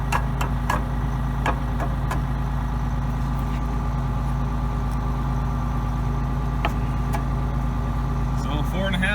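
An old fertilizer spreader, chain-driven off its wheel, runs steadily beside an idling engine, giving a continuous mechanical drone with a few faint clicks and knocks throughout. A voice is heard over the machinery.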